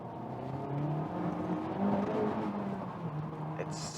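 A Honda Civic Type R FK8 engine hums steadily from inside the cabin in comfort mode, with a faint rising whir and a short throttle blip near the end, quiet and continuous.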